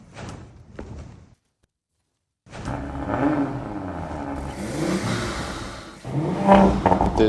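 A new 2026 Audi RS5 Avant with a 639 hp engine: a short burst of noise and a moment of silence, then a steady, close engine rumble that surges louder toward the end.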